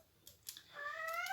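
Domestic cat making a short, faint rising vocal cry in a quiet room, preceded by a few soft scraping clicks from nearby.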